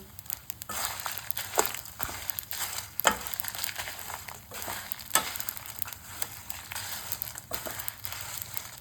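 Spices with turmeric and asafoetida frying in a pan, a steady crackling sizzle broken by irregular scraping and stirring knocks, close and continuous with no talk.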